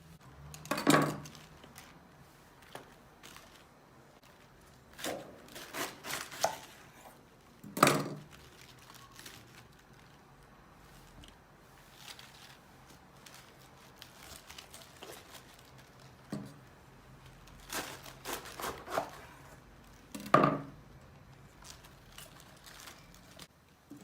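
A knife chops cabbage on a board in a home kitchen, with scattered sharp knocks and clinks spread out between quieter stretches.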